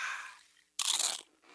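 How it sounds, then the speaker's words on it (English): Crisp crunch of biting into a nacho chip, a single loud close bite lasting about half a second, set between quieter sounds. "It's the crisp crunch of that first nacho chip."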